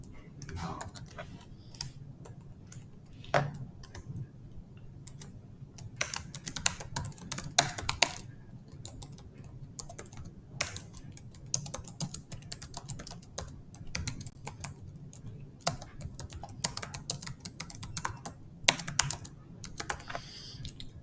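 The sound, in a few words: typing code on a computer keyboard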